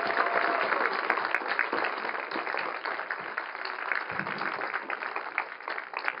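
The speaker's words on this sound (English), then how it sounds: "So let's give a big round of applause for everyone that was involved." Applause from the audience at a marching band showcase in Rockingham County, a steady dense wash of clapping that holds at an even level for several seconds with no talk over it.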